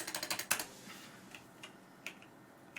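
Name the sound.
typing on a computer keyboard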